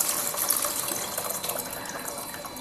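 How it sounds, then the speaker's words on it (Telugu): Soaked tamarind water pours steadily into a simmering isukadondulu curry in a home kitchen, a continuous close splashing trickle at an even level throughout, with no voices. "ఇప్పుడైతే ముందుగా నానబెట్టుకున్న చింతపండు పులుపు, అంటే తక్కువ ఎక్కువ కాదు. ఓకేనా? ఇప్పుడైతే పులుపు వేసేస్తున్నాను."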